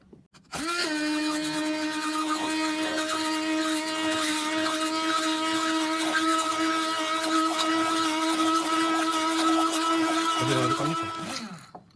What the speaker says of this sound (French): avec le mixeur pour forcer les deux mélanges, parce qu'évidemment l'eau et l'huile, ça a du mal à se mélanger autrement